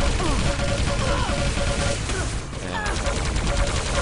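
Dense, overlapping weapon fire and explosions from a team deathmatch in the arena shooter Quake Live, loud and continuous with a shotgun in play, and a commentator's voice running over the action.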